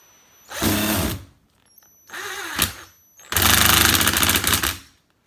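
A power drill drives an exterior screw into the frame of a DIY garden sphere, whirring in three loud bursts with short pauses between them, no voices.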